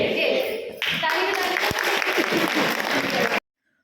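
A group at a training session claps hands together in a burst of dense applause lasting about three seconds, loud and close, then cutting off abruptly into silence.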